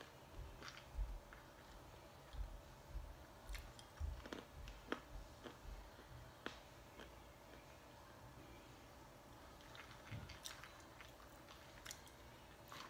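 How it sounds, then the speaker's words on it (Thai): Peanuts being chewed close by, a run of small crisp crunches and bites coming in uneven bursts over a quiet, faint background with no talking. "กินถั่ว"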